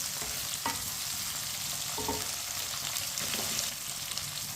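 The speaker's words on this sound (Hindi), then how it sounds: "भिंडियों को ना मिक्स कर लेंगे।" Okra being stirred in a pan for a daal bhindi dish, with a steady frying sizzle throughout and a few soft scrapes of the spoon against the pan.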